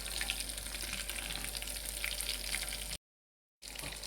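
Shrimp coated in gram flour (besan) batter fry in hot oil, giving a steady, dense crackling sizzle that runs continuously before a brief cut to silence and then resumes.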